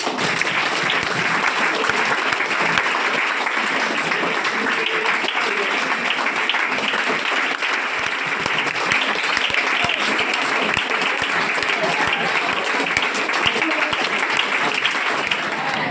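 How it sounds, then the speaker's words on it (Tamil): An audience claps without pause at a weekly achievers' celebration, a dense, even wash of many hands that stays loud for the whole stretch with no voice rising above it. "நல்ல கைத்தட்டல் கொடுத்தீங்கன்னா கொடுத்துடலாம்."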